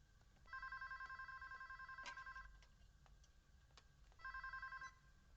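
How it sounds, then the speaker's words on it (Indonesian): A telephone rings in two clear bursts of electronic trilling, with a pause between them, quiet in an indoor room. "Telepon."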